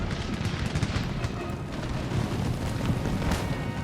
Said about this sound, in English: Did they actually fire? I think they fired.